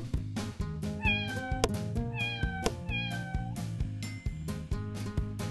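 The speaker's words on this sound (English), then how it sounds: "Cat!" Several cat meows sound in sequence over rhythmic background music, short rising-and-falling cries spaced along the beat.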